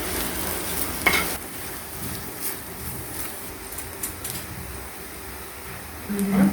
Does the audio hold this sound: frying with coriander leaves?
yes